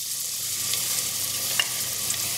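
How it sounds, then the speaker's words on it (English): Garlic frying in hot oil for a Bangladeshi fish curry gives a steady, even sizzle throughout, with a couple of brief crackles standing out near the end. No one speaks. "The oil has heated up, so I'm going to add the garlic."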